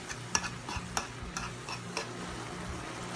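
Organic diced tomatoes cooking with browned turkey, onions and garlic give a quiet, low sizzle, with several sharp utensil clicks and scrapes against the pan spaced irregularly at close range.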